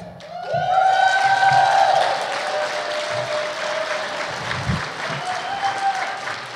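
Applause and a few cheers from the crowd at an annual awards ceremony greet the Rising Star Award. The clapping swells quickly, then eases into steady, softer applause, with a voice calling out briefly at one point.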